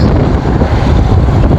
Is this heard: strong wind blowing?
yes